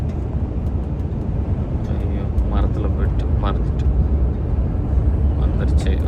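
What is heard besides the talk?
airplane landing overhead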